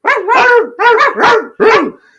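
A dog barks four times in quick succession, loud, close and slightly yelping, with nothing else audible underneath.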